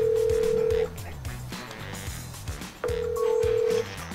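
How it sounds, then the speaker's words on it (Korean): A telephone call is placed: steady tone-dialing and ringback tones sound in two long beeps separated by a gap, with a rhythmic low pulsing pattern running underneath throughout. "영철이 형한테 전화해볼까?"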